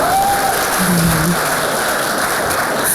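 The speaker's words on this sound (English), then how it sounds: "let's give me a round of applause" Audience at a leadership talk gives a steady round of applause, a dense hiss of clapping that sounds almost like rain, with brief voices over it.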